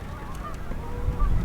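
Canada geese honk a few times at a distance over rumbling wind and low background noise.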